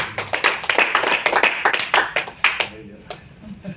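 A small audience claps in a quick, loose burst at a motivational talk, distinct individual claps landing close together and thinning out toward the end.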